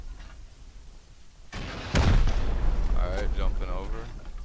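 A rocket launcher fires at a base during a raid in the video game Rust, a sudden loud blast followed by a heavy booming explosion and rumbling debris, with a fainter whooshing tail as the noise fades.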